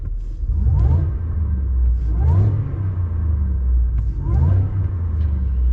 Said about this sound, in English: you guys need to hear this supercharger in this truck